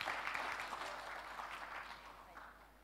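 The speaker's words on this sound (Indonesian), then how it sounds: "tepuk tangan untuk beliau" An audience at a business association gathering in Indonesia applauds in honor of a founder, a soft, fairly distant wash of clapping that fades slightly over a few seconds.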